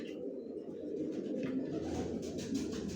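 Steady low cooing of adult racer pigeons, several birds overlapping in a continuous murmur, close by with no talk.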